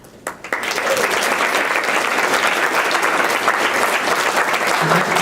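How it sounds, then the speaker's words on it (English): An audience at a research night bursts into applause after a brief quiet moment, dense and loud clapping filling the room steadily to the end. "I know that you've already been applauding"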